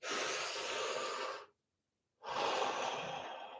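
Two slow, deep breaths, close and loud with a rushing airy hiss, separated by a short silent pause.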